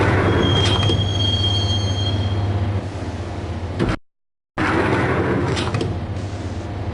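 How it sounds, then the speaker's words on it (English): Subway train ride in a PS4 video game, with a steady low rumble of the moving cars and high, sustained wheel squeals near the start, a brief cut to silence, then the rolling rumble resumes. "the train doors had already shut behind me, and I was in for the ride"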